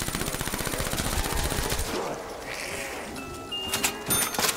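Rapid submachine gun fire from Black Ops 3 Zombies rattles in a fast burst for about two seconds, followed by quieter game effects and a few chimes.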